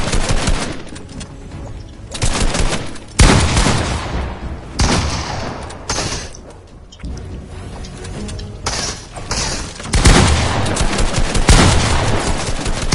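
Loud, dense Fortnite gunfire, with rapid automatic bursts and sharp single shots that overlap almost without pause across the whole stretch, heavy booming impacts mixed in.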